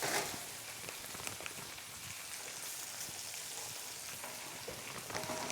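Sausages simmer on low heat in a frying pan, giving a steady, soft crackling sizzle like light rain on a surface, continuous and fairly quiet throughout with no talking.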